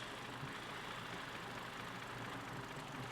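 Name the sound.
engine running on milk as fuel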